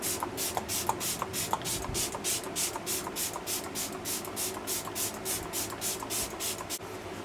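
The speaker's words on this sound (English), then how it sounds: "I'm going to spray my face to set everything in." Rapid, rhythmic spritzes of makeup setting spray misted onto a face repeat steadily for several seconds, soft hissy pulses close by against a faint background hum.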